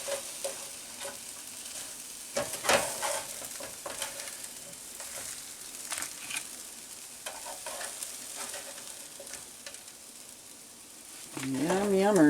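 Potatoes frying in a pan at a summer camp cookout, a close, crackling sizzle broken by scraping and stirring clatter, with a person speaking briefly over it.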